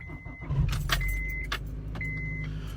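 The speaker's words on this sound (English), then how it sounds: "Just trying to get in the car and warm up here for just a second." A car on a cold day as someone climbs in: a door opens and thumps, keys jangle and there is rustling, with a few faint repeated chimes and a low steady hum from the car.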